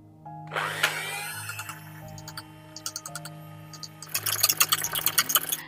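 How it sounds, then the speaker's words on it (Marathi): An electric hand mixer whips one cup of whipping cream for a Black Forest cake, a steady close motor whine with rattling, clicking bursts toward the end. "आपली जी व्हिपिंग क्रीम आहे ती आपण बीट करून घेतोय."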